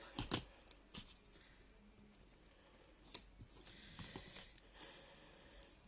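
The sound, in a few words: small scissors for double-sided tape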